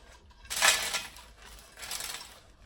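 Matzoh farfel granola poured onto a parchment-lined baking pan, giving two bursts of dry, crisp rattling pattering, the first louder, separated by a brief pause.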